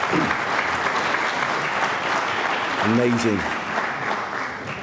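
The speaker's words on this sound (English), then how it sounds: "Come on, let's give her another round of applause." Applause from an audience at a middle school ribbon cutting ceremony, steady, dense clapping filling the whole stretch, with a voice briefly speaking over it near the end.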